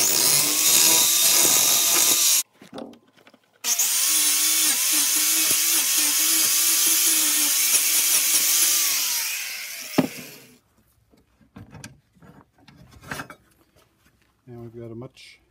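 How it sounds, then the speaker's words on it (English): A grinder cleans up the cut edges of steel for a BBQ firepit build. A short loud whine is followed by a longer sustained grinding run that winds down, then come quieter clanks and handling noises. "Gives me time to kind of clean up these edges anyway with the grinder"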